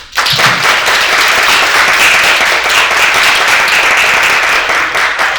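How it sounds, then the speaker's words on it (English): An audience at a graduation ceremony applauds the BRIDGE Cohort 5 graduates. Loud, dense clapping starts abruptly and holds steady for several seconds, filling the room without pause. "We can give Cohort 5 another round of applause"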